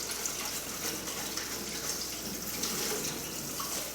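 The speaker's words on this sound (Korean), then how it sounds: "지금 찬물에 한번 헹궈주세요" Cold tap water streams over blanched noodles for the Chinese dish ulmyeon, a continuous soft hiss and splash that holds steady throughout with no talk.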